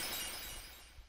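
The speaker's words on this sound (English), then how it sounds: "He just broke some glass" A short, quiet shatter of breaking glass in the Pokemon Mystery Dungeon: Explorers of Darkness video game, a brief bright crash that fades within about a second.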